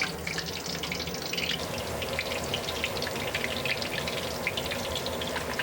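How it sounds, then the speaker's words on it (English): Lionhead meatballs, balls of seasoned ground meat, deep-fry in a pot of hot oil, giving a steady, even hiss and crackle at moderate volume with no talking. "all round balls are dropped into the frying pot"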